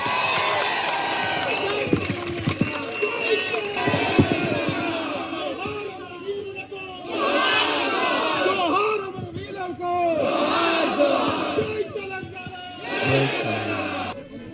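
A large crowd at a protest rally cheers and shouts in loud repeated surges, with a voice over a public address system between the bursts.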